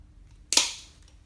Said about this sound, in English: Can't really cut it with anything but a bolt cutter.